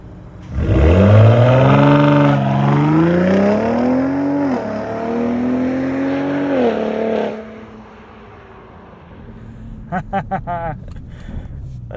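A 2021 Ford F-150 Raptor with the 37 Performance Package accelerates hard from a standstill on a dirt road. The loud engine climbs in pitch through several upshifts for about seven seconds, then drops away, leaving a few brief clicks.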